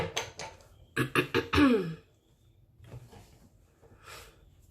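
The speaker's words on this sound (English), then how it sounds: "clearing my throat and refocusing my voice" A few sharp, forceful throat-clearing bursts up close, followed by quieter rustling and a faint breathy noise.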